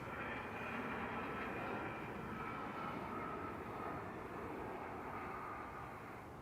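An airliner landing at Toronto airport with reverse thrust applied, a faint, steady, broad engine roar heard from a distance and holding without a break.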